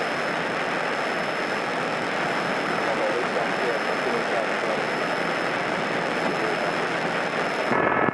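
Steady drone of a small propeller airplane's engine heard from inside the cabin during a discovery flight lesson, loud and continuous with no breaks, then cutting off abruptly just before the end.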